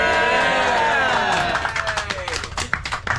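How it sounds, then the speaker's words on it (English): Seniors on their first field trip of the year cheer and clap together as a crowd, a loud burst of voices and applause that breaks into scattered claps and shouts. "Everyone cheer."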